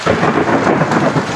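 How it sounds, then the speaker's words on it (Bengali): Thunder rumbles loud and broad during a heavy rainstorm, blending with the dense hiss of falling rain over a brief stretch with no voices. "বিজলি চমকাচ্ছে এবং বিকট শব্দ সৃষ্টি হচ্ছে।"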